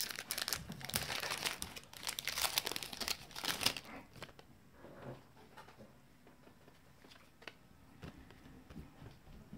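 A Pokémon trading card pack wrapper is torn open and crinkled, with loud, dense crackling at close range for several seconds that then thins to sparse, soft rustles and taps. No one talks.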